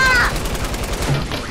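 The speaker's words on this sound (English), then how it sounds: "We're getting shot at!" Rapid bursts of gunfire in the Fortnite video game, a dense crackling barrage that runs the whole moment under a busy game mix, with a voice faintly present.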